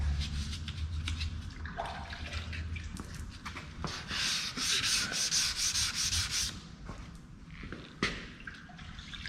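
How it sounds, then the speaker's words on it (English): Sandpaper rubs over a wet car panel outdoors on a cold 48-degree day, making a continuous scratchy rasp in rhythmic back-and-forth strokes with watery swishes and drips, close and moderately quiet. "let's get this thing wet sanded in this 48-degree weather today"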